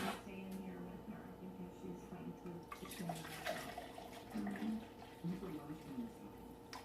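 Heated water is poured into a cup to dissolve beef bouillon cubes, a steady splashing trickle that runs for several seconds at moderate volume against faint kitchen background noise.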